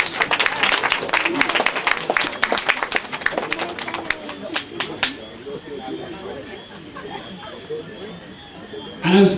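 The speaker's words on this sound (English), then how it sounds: "Give them a nice round of applause." Wedding guests burst into loud applause, a dense wash of clapping that peaks early and then thins into scattered claps and crowd murmur, with voices talking over it.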